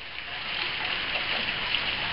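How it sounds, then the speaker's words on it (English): Steady rain during flooding at an off-grid homestead with a chicken coop, a constant even hiss of falling drops with no voices. "it's still raining"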